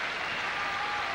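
Arena crowd at a 1986 World Cup gymnastics final applauding a pommel horse routine, a dense, steady wash of clapping from a large audience throughout.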